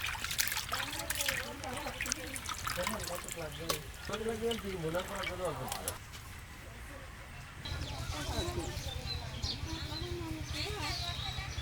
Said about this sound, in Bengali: গোস্ত কাটা শেষ হয়ে গেছে, এখন এই যে সুলতান ধুয়ে ফেললাম কিন্ত